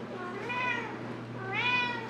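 An indoor house cat meows twice, each call a rising and falling mew about a second apart, fairly close and moderately loud over a low steady background hum.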